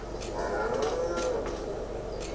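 Cattle moo in the farming game Farming Simulator 22 on a farm with over a hundred cows, several overlapping low lowing calls filling the short stretch over a steady ambient background.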